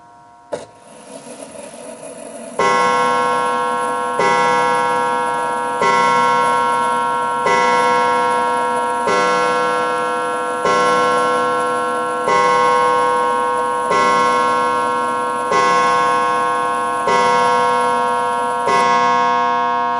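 A 1950s Smiths Enfield mechanical mantel clock strikes eleven, ringing eight clear, evenly spaced chimes heard up close, each note ringing on and fading before the next, after a brief handling sound at the start.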